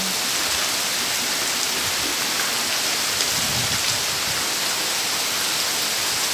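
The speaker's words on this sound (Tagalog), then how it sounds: "Grabe, ang lakas ng ulan. May kasama pang kulog." Heavy afternoon rain pours down in a dense, loud, unbroken hiss, with low rumbling thunder rolling faintly underneath throughout, close and steady with no talking.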